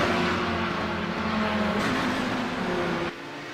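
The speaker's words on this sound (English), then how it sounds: "Hear those turbos kicking in" Turbocharged prototype race cars accelerate at Watkins Glen in a Kamel GT Championship round, a loud droning engine note with steady harmonics that holds, then drops away sharply near the end.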